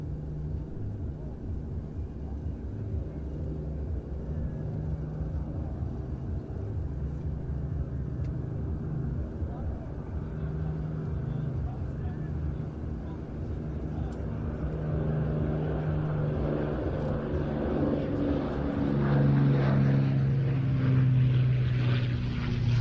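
The Avro Lancaster PA-474 flies over the Ayr air show, its propeller engines giving a steady, broad rumbling drone that swells louder toward the end, with a voice speaking over it.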